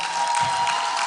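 An audience at a business school entrepreneurship expo and pitch contest claps steadily, a dense, even burst of applause filling the room for about a second.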